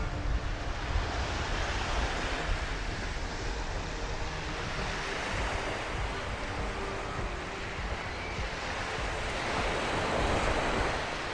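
Ocean waves wash onto a quiet beach at Cap Cana, a steady broadband rush of surf mixed with wind buffeting the microphone, continuous and fairly soft with no voices.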